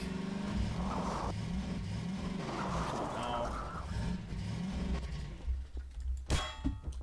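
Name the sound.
car engine revving in the video game Garry's Mod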